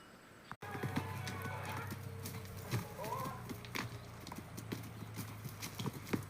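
A newly bought horse clip-clopping, hooves striking at an irregular walking pace, fairly quiet and close against faint background noise after a sharp thump near the start.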